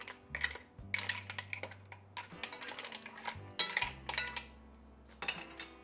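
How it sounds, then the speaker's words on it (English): A utensil scrapes and clinks against a pot while stirring cioppino sauce over medium heat, with soft, irregular taps and scrapes, close and quiet, with no talking. "Stir this ever so slightly."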